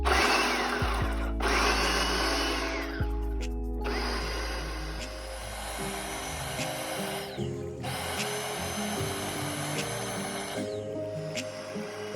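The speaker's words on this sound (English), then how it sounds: "we're going to put it in the food processor. And we're going to pulse it down." A loud motorized whirring runs in repeated bursts as a food processor pulses okra, starting and stopping several times with brief pauses between pulses.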